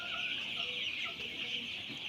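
Chickens in a poultry shed with birds spread out at low density, giving a steady, close chorus of clucking and chattering from many hens at once, continuous throughout with no talk.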